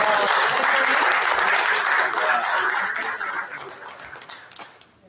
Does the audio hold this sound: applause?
yes